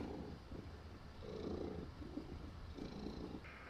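A cat purrs softly and steadily up close, its rumbling coming in slow rhythmic pulses with no other sounds.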